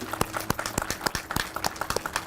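A scattered group claps at a ribbon cutting for a water and wastewater administration building, a few loose, uneven hand claps sounding fairly close without steady rhythm.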